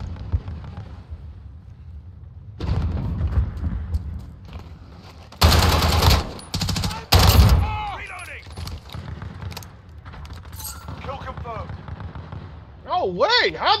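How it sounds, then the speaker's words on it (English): Gunfire in the video game Call of Duty Modern Warfare, played in hardcore Kill Confirmed mode on the Hovec Sawmill map, loud bursts of shots and rapid fire breaking in around a player's speech, with game sound effects between them. "he pulled the trigger on his gun"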